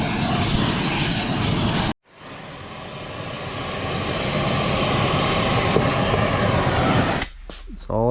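A rosebud-tip torch heating a ring gear in a garage, a loud steady roaring hiss that cuts off abruptly, then builds again into a sustained rushing flame before dipping near the end.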